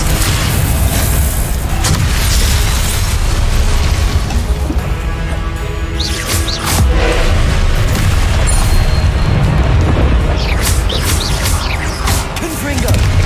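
Repeated booming spell blasts and crashing impacts from Confringo in the Hogwarts Legacy video game, with loud dense bursts rolling one after another over a rumbling low layer, sharper cracks around the middle and near the end.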